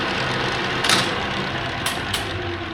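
Clausing Colchester 13x36 metal lathe running in high gear, a steady broadband mechanical whir with a low hum, held close and even, with a few brief louder clicks or clunks from levers and switches.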